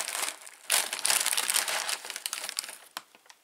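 A cereal bag, its contents smelling of Play-Doh, is handled and crinkled close up, with dense crackling bursts that swell and fade across a few seconds.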